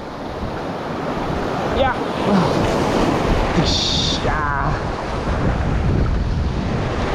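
Ocean surf and wind roar loudly around a kayak while fishing off Ternate, Cavite, with waves washing steadily against the boat and a man calling out short words over the rush of water.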